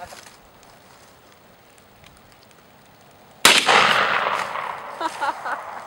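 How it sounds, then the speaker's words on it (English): A shotgun fires once at a target box during autumn target shooting outdoors: a single loud, sharp blast partway through, after quiet background, followed by several seconds of lingering rumbling noise. "is brave enough to shoot the shotgun"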